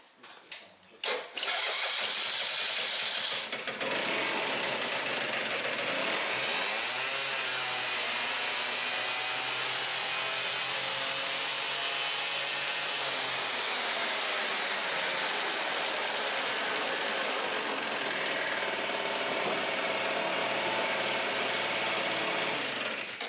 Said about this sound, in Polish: Ja może uruchomię teraz silnik i pokażę, zademonstruję, że ten silnik po prostu nie wkręca się na pełne obroty.